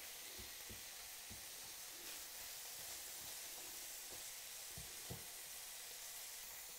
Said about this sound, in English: I'm just going to keep breaking that beef into smaller pieces too while I'm cooking the onions and the celery.